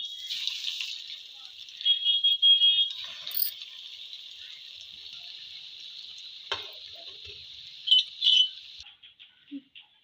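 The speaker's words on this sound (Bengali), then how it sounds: "এবার এক এক করে তেলে দিয়ে দেবো।" Fish fingers fry in hot oil in a wok, giving a steady, fairly quiet sizzle that runs almost the whole time, with a few louder bursts of crackling before it cuts off near the end.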